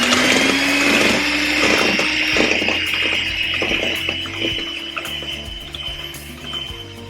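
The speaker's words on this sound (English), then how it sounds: "we are going to whisk for 5 minutes the egg whites" Electric whisk beating egg whites for an almond cake, a steady motor whine with a rising pitch, loud and close, running continuously with faint scraping against the bowl.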